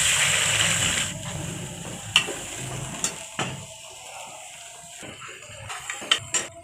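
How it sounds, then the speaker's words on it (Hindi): Onions frying in ghee in a kadai for chicken biryani, a soft steady sizzle close by, broken by a few light clinks and stirring knocks. "जब तक हमारे प्याज ब्राउन हो रहे हैं"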